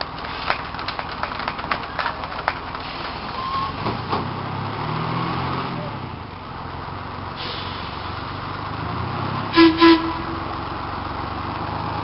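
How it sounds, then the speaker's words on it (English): A Boston New Look fishbowl transit bus rolls by in a parade at a trolley museum, a steady engine rumble with traffic-like noise throughout and two short horn blasts near the end, no talking. "from Boston, the New Look bus, or fishbowl bus, number 6069."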